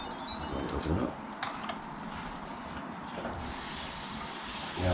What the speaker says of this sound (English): rinse the lid out of the sink like this with a squishing motion